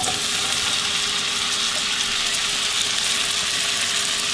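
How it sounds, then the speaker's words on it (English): Mushrooms and onion land in a hot pan while cooking Salisbury steak, giving a steady, close, hissing sizzle that holds evenly throughout with no talking. "We're going to put in our mushrooms and onion."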